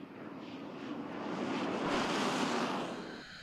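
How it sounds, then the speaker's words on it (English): An L-39 Albatros jet flies over a Kalahari pan during land speed record testing, a broad roar swelling as it nears, peaking midway, then easing off. "Daarna is die L39 Albatros jet ook ingespan."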